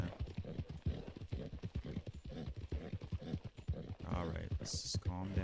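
Rhythmic clip-clop of horse hooves in Red Dead Redemption 2 at a steady trot, close and clear, with a person talking over it and a brief higher sound near the end.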